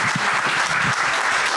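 Brief burst of steady audience applause after a magic trick at a live festival show, dense even clapping from a crowd throughout.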